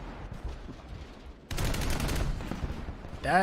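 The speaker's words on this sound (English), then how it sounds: "The sound of this 20 millimeter though." A 20 millimeter cannon firing in a video game, heavy booming rounds that start abruptly after a quieter stretch and roll on loud and dense, ending in a ringing metallic whine.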